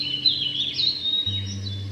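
A pet bird chirps in a steady run of bright calls during a morning theatre performance, with a low hum beneath and no talking.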